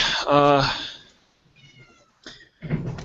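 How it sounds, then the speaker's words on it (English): A cat meows once up close, followed by quieter rustling and brief sounds, with no one talking. "sorry if you hear my cat in the background."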